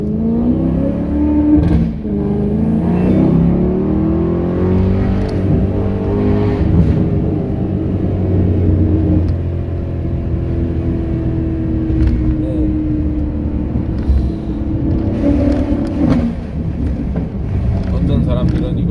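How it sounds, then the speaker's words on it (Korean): A Maserati Quattroporte, a car known for being loud, gives a continuous deep exhaust drone with engine rumble and slight revving swells, close and loud throughout, with someone talking over it. "시끄럽기로 유명한 마세라티입니다"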